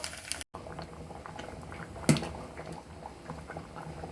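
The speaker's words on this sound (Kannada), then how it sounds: "ನೋಡಿ, ಸಾಂಬಾರು ಚೆನ್ನಾಗಿ ಕುದೀತಾ ಇದೆ" Sambar of brinjal and drumstick, Mangalore style, boils steadily in a pot, a close, continuous bubbling simmer with a short louder pop of bubbles partway through.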